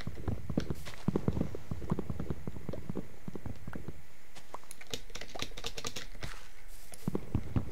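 A computer keyboard is typed on in quick, irregular bursts of close, clicky keystrokes, pausing briefly midway before the tapping resumes.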